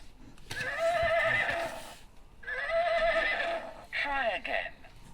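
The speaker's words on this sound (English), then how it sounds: "Uh-oh, this is the black horse." A horse neighs as an animal sound in a children's learning game: two long, bright whinnies, close and loud, followed by a shorter, fainter call with a short pause between each.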